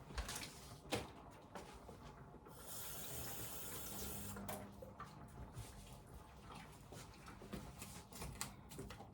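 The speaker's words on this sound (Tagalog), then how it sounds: "Guys, dagdagan ko ulit ng water kasi marami ang gulay." Water runs from a tap into a pot of vegetable porridge, a steady close splashing rush that swells and eases over several seconds, with no talking.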